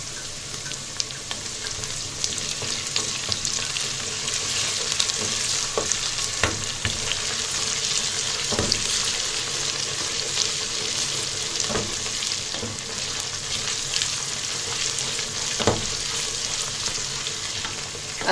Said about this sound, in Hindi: अब मैं इसमें ये लहसुन डालूंगी।